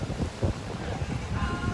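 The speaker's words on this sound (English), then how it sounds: "it's windy" Steady wind buffeting the microphone at the Grand Canyon, a low rumbling roar with gusty swells throughout.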